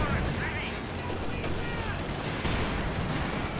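Bazooka rounds fire and explode amid the battle din of the Company of Heroes 2 strategy game, with dense overlapping blasts and rumbling gunfire throughout.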